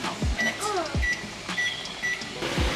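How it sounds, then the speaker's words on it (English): A microwave oven running with a steady hum, broken by a few short beeps and soft low thumps. "now we're putting it in the microwave"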